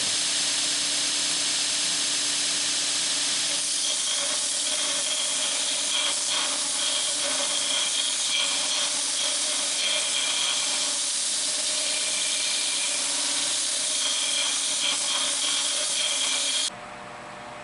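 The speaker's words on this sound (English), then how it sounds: "with this sander, we can remove it more nearly in a straight line and keep the sides of the grip smooth" Belt sander grinding a heavily rusted scythe blade being shaped into a bread knife, a loud continuous hissing rasp that holds steady for most of the stretch, then drops off near the end.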